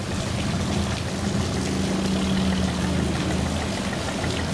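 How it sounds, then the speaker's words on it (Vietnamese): A wooden rice-carrying boat with a turbo-modified engine runs through a canal sluice gate, its steady low engine drone droning continuously with a faint hum of moving water around it. "Rồi chiếc ghe nãy bị dắt ngang, giờ cũng ra được tới miệng cống ha."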